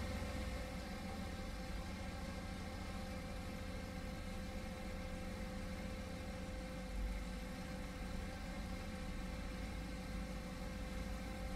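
A 408 cubic-inch LS V8 fitted with 100 lb/hr fuel injectors idles steadily with no throttle applied, a continuous close engine drone that stays even throughout with no voices.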